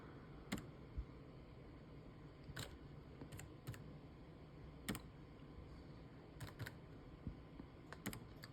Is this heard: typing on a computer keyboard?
yes